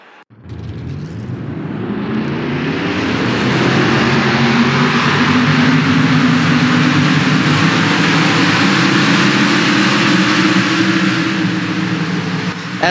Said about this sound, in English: let's get the engines fired here at Old Spice